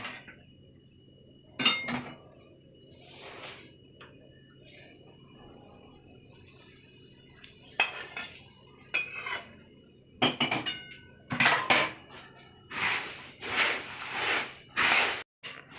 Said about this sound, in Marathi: चिवडा छान मिक्स करून झाला आहे